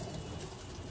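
A domestic pigeon coos softly from the home loft, low muffled calls blending into faint steady background noise.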